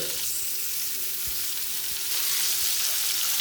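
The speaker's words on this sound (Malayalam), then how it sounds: "അപ്പം ഇനി ഏതായാലും നമുക്ക് വറക്കാം" Squid frying in hot coconut oil in a pan, giving a steady, close crackling sizzle with a faint hum beneath and a few soft knocks.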